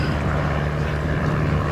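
A Piper L4 light aircraft powered by a Continental O-200 engine drones steadily and fairly loudly throughout, a continuous low propeller hum without breaks.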